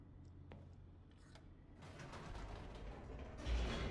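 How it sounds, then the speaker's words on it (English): An elevator descends in the video game The Stanley Parable, with faint mechanical creaks and clicks at first, then a swelling rumble of machinery and grinding that grows louder toward the end, no talking. "And then we go down the elevator."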